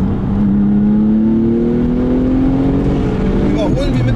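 A Techart-tuned Porsche 996 Turbo with 560 PS accelerates hard while overtaking, heard from inside as a loud continuous engine drone rising steadily in pitch, with a brief whistle-like chirp near the end.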